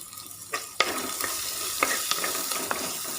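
Small chopped shallots fry in a pan with a moderate sizzle, punctuated by a handful of sharp spoon scrapes and taps as they are stirred.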